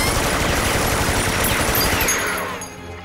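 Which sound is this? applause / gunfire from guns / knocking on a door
gunfire from guns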